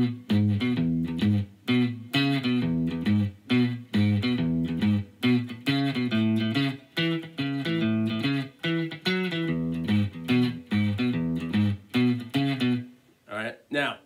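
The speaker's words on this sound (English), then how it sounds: "The boogie sounds more like this." An electric guitar plays the rockabilly boogie part of a song with a clean, slightly effected tone: a chugging, repeated low riff in bouncing shuffle rhythm, close and loud, with brief gaps between phrases.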